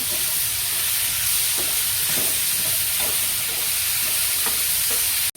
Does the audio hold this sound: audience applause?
no